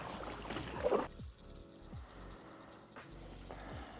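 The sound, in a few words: paddling a kayak up a creek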